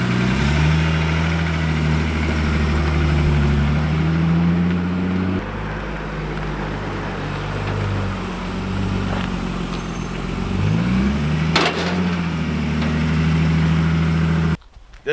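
A sports car engine starts and settles into a steady idle, its deep rumble shifting in pitch a few times as the revs rise and fall, loud and close.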